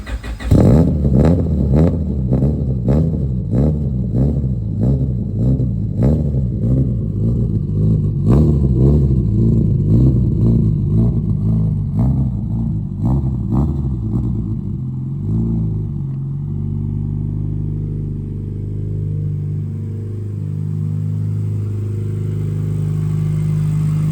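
A turbocharged Honda Civic EJ9 engine revs loudly from inside the car while driving, with repeated rising and falling throttle bursts that rattle, then it settles into a lower, steadier drone.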